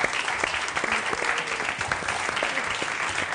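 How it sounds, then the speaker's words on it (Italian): Studio audience applause on an Italian TV cooking show, a steady dense clapping wave that holds loud and unbroken throughout with no voices over it. "Un applauso."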